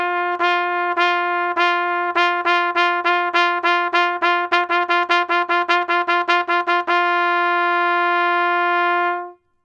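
A trumpet repeats one steady sustained note in a tonguing exercise, about two dozen crisp articulated attacks in an even rhythm, then a held tone to finish, played solo and close.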